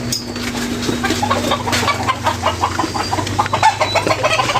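Several chickens clucking continuously nearby, with busy overlapping calls and a low steady hum underneath.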